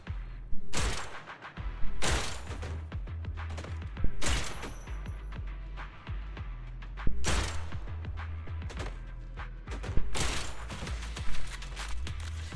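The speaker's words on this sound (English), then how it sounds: "I'm relying on the piercing shots in order to actually be able to hit these guys." Piercing shots fire in bursts during Zenless Zone Zero combat, sharp loud cracks recurring every couple of seconds over a low rumbling game backdrop.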